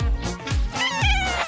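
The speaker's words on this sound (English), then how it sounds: "Ooh, a kitty!" A cat meows and caterwauls in several drawn-out, wavering cries close by, loud and alone without speech.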